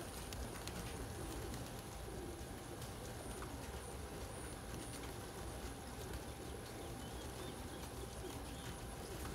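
Pigeons at a loft coo softly in the background over a constant dense wash of ambient noise, faint and continuous with no talking.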